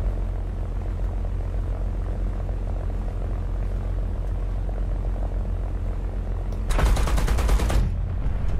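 An aircraft's machine guns fire on a strafing run over ground vehicles in War Thunder simulator battles: a loud burst of about one second breaks through a continuous propeller-engine drone near the end.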